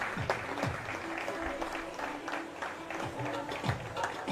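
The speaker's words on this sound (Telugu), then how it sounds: "అందరూ చప్పట్లు కొడదాం. చప్పట్లు కొడుతూ వారిని ఆహ్వానిద్దాం." An audience at a pastor's birthday celebration in Vijayawada claps steadily to welcome the pastor, a close, sustained patter of many hands with a voice speaking over it.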